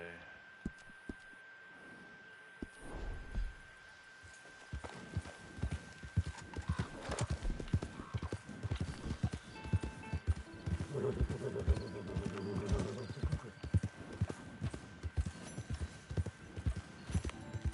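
Horse hooves clip-clop steadily as a flaming-hooved horse is ridden in the Red Dead Online video game, the rhythmic beats close and clear, with a whinny and rumbling game sounds mixed in and someone talking over parts of it.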